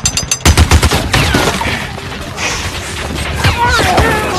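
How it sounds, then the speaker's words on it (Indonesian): A Gatling gun fires in a Western gunfight from The Magnificent Seven, a loud rapid burst of about seven shots early on, then scattered impacts and crashes with voices shouting over the chaos. "Bog langsung melancarkan serangannya dengan senjata galting tersebut."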